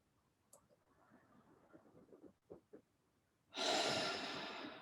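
A long, steady exhalation during a guided relaxation breathing exercise, rising suddenly as a loud, airy rush after quieter soft breaths and faint clicks.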